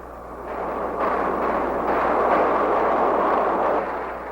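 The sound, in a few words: bombing explosions from B-52 bombardment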